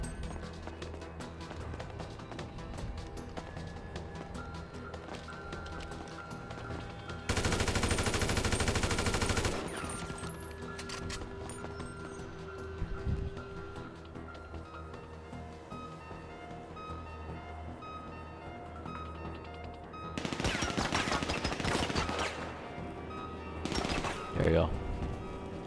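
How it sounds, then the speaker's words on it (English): Heavy bursts of gunfire in GTA V, with a long loud volley early on and two more rapid bursts near the end, set against steady game sounds and music while a person talks. "Who is shooting at me?"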